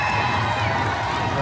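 A county fair crowd cheers and shouts, children among them, during pig races, a loud dense roar lasting throughout with mixed voices.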